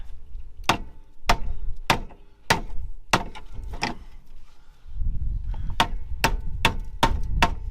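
A rock is used as a hammer outdoors, giving sharp, evenly spaced strikes, a first run of about eight blows, a pause, then a quicker run of six more over a low rumbling background.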